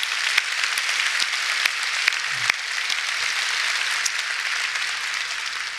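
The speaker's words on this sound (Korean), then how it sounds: "한번 큰 박수 다시 해드려요" Church congregation giving a sustained round of applause, a dense, even wash of clapping from a large crowd that carries on steadily with no talking.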